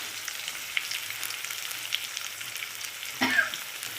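Chili, coriander and turmeric powders with ginger sautéing in oil for a Bengali potato curry over low gas, a quiet steady sizzle with a brief louder stir near the end.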